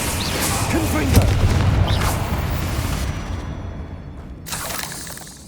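A Confringo blasting spell goes off in Hogwarts Legacy with a loud booming burst and shattering crackle, followed by a rumbling tail that fades out before a sharp sound cuts back in near the end.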